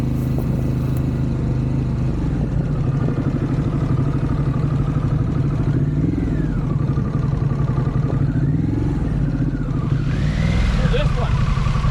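A motorcycle runs at low speed through riding exercises around cones, its engine holding a steady drone with small throttle rises throughout while someone talks over it.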